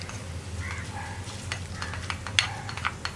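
Fried tempering is stirred into boiled tapioca for paal kappa, a steady close scraping stir with a soft sizzle underneath and a few sharper clinks of the spoon against the pan.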